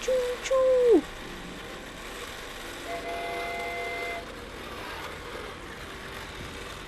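A train in the video game Everybody's Gone to the Rapture: a short rising horn blast opens, then a low, faint rolling rumble carries on steadily in the distance.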